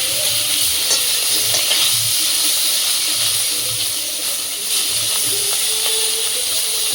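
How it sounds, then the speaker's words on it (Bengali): Fish frying in a pan of hot oil, a loud, steady sizzle and hiss with occasional stirring scrapes, continuous and close, with no talk. "আর বাকি মাছগুলো একই কাজে ভেজে নেবো।"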